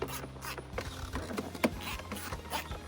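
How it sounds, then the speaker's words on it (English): Screws are driven into the back of a door panel on a 2014 Chevy Silverado, producing close, busy mechanical clicking and ratcheting with a low hum that cuts out early. "Now I'm gonna go ahead and put these screws back in the back side of the panel here."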